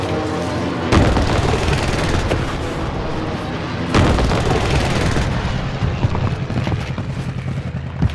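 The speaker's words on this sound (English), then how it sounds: "Requesting airstrike on my border." Airstrike explosions in Call of Duty Warzone, loud booming blasts thudding in sequence with two sharper impacts amid continuous heavy rumble and crackling gunfire.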